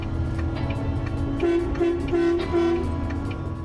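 Loud truck air horn blasts sounding in a row of four long honks, over a constant rumbling engine.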